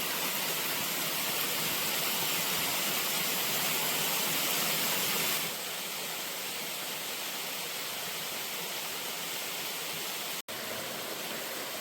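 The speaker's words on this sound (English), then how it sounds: "Got ourselves a nice waterfall to start." A waterfall on a mountain hiking trail gives a steady, loud, broadband rush of falling water, unbroken and constant, dropping slightly in level partway through, with no voices.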